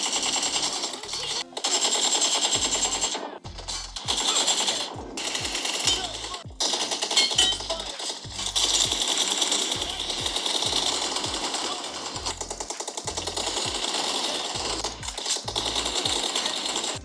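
Rapid automatic gunfire from a BGMI team deathmatch mobile game rattles in long dense bursts with brief gaps, loud and continuous across the stretch, with game effects underneath.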